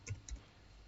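A few light computer keyboard key clicks, about two quick taps, close and soft over faint room hiss.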